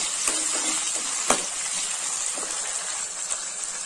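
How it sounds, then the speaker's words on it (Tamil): Tomatoes sautéing with onion and garlic in a pan, a constant bright sizzle with occasional soft stirring taps and one sharper knock, close and even throughout. "தக்காளி சேர்த்து நல்லா வதக்கி விடுங்க"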